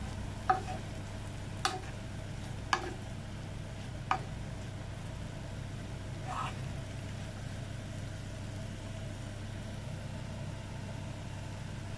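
Prawns stirred in chilli oil in a pan for prawn achar give a steady low sizzle under a few sharp scrapes and clicks of the spoon against the pan in the first seconds, then a quieter continuous fry.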